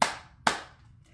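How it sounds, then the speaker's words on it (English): Two sharp, close hand claps about half a second apart, each a bright crisp snap that fades quickly, keeping time with a children's song. "clap your hands"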